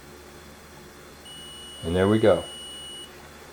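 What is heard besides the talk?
multimeter continuity test beep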